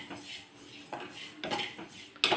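Sesame seeds being stirred and roasted in a home kitchen pan, with repeated scraping and clinking of a metal spoon against the pan in irregular bursts, fairly close and moderately loud, no talking.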